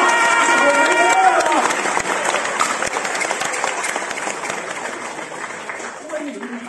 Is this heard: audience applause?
yes